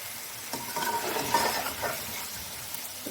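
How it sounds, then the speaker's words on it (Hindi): Ingredients for a Punjabi restaurant-style biryani sizzle steadily in a pot while being stirred, with scraping strokes of the spoon at intervals, close and continuous throughout. "इनको भी हम थोड़ी देर भून लेंगे"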